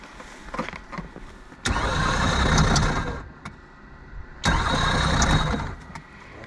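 A boat engine cranks over on the California Delta, apparently with lost compression: two long, loud, rough grinding bursts of cranking, separated by quieter idle-like rumble, with no voices.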